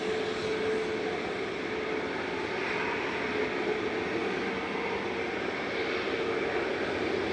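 An airliner departing Manchester Airport gives a loud, sustained jet engine roar that holds steady throughout. The roar stays broadband and close.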